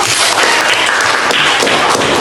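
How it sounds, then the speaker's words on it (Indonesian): Students in a classroom clap together at close range, a loud, steady wash of many hands that carries evenly through the whole stretch without pause. "Oke, beri tepuk tangan dulu."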